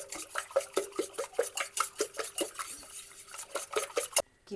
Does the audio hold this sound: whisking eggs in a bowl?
yes